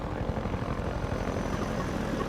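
A combat helicopter in the video game Half-Life 2 hovers nearby. Its rotor thumps in a dense, steady drone over a broad engine roar, loud and unbroken, with no talking.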